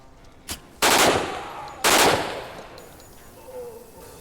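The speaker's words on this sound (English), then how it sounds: "And he's got an LMG," Two loud bursts of light machine gun fire in Door Kickers 2, each a short sharp rattling volley about a second apart, with a faint single shot before them and quiet afterward.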